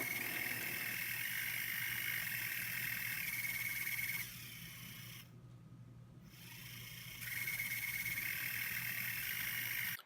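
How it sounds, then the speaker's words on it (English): An LED spinner's motor under speed control makes a steady whirring drone with a high whine. The whine drops away midway, leaving a quieter hum, then returns at full level. "Next, we'll see and hear a demonstration of this motor control."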